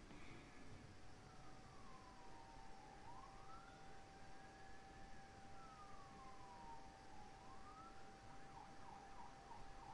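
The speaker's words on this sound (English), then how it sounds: "apologies if you can hear that siren" A police siren wails faintly in the distance, its pitch sweeping slowly up and down several times over a constant low background hum.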